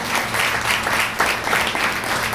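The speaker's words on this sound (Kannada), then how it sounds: "ಹಾಲೆಲೂಯಾ, ಜೋರಾಗಿ ಚಪ್ಪಾಳೆ" Loud, sustained applause from a church congregation, dense clapping rolling in steady waves for the whole stretch with no voices standing out.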